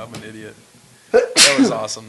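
A person lets out one sharp, loud sneeze in the middle of casual conversation, with voices talking just before and right after it.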